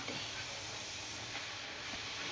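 Puris, spinach-flavoured and fried one at a time in a small kadhai of hot oil, give a steady close hiss and sizzle that holds evenly without pause and carries no voices.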